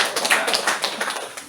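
A church audience gives brief, scattered applause, a quick patter of overlapping claps at moderate volume with no voices over it.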